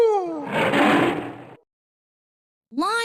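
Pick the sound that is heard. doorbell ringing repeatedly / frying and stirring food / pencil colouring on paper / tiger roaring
tiger roaring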